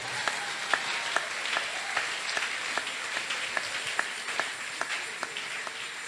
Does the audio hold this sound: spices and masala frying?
no